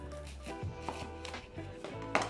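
Knife slicing a red onion in half on a cutting board in a home kitchen, a few soft, irregular thuds and cuts, close and quiet, with no talking.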